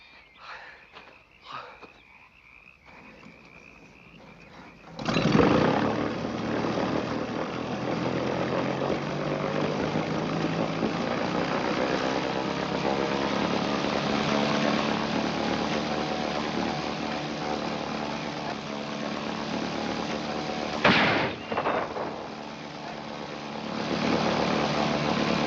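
Boat engine running as a radio drama sound effect, a steady loud droning motor that starts abruptly after a few seconds of quieter noise and continues, with a brief break of a sharp knock near the end.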